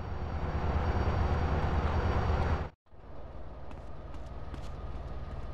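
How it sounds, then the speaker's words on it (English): A train in the video game GTA San Andreas rumbles loudly and steadily with a dense mechanical drone, cutting out abruptly partway through before a quieter, thinner rolling noise continues. "Follow that train!"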